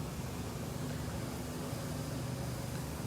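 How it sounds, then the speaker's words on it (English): A mosquito fogging machine sprays outdoors at a big cat rescue, making a steady, dense hissing drone with a low rumble. It runs unchanged throughout. "So that noise you hear is Victor fogging for mosquitoes"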